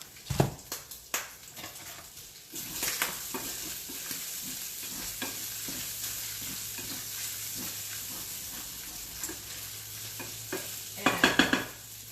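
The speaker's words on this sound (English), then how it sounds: "bacon's cooking up pretty good" Bacon sizzles and fries steadily in a pan, a continuous crackling hiss with occasional stirring clatter and louder scraping bursts near the start and end.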